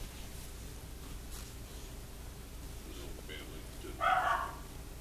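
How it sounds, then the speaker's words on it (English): A dog barks in a short burst near the end, fairly close and loud over a steady background hiss, with people talking around it. "You heard my dog."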